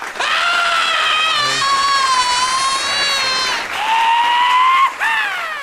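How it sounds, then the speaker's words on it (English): A live podcast audience applauds and screams shrilly to welcome a guest, with long, wavering high-pitched yells riding over steady clapping that stays loud for the whole stretch. "Can we give applause and some screaming and stuff for Titty Fish?"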